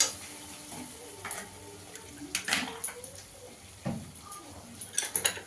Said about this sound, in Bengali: গ্যাসের আঁচটা একদম কম করে দইটাকে কষিয়ে নেবো